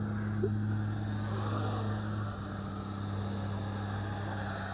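A Star Wars TIE Fighter toy drone hovers close by with a constant high propeller whine and a steady motor hum that dips slightly midway.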